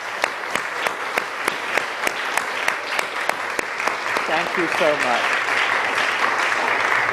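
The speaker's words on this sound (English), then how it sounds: "Let's give them a hand, everyone." A church congregation gives a round of applause for fathers, with scattered sharp claps building into fuller clapping while a voice speaks briefly over it.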